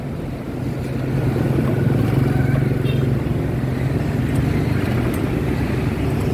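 The engine of a Firman FTL 620 rises as the throttle is pulled, then holds a loud, steady droning roar close by with no talk over it.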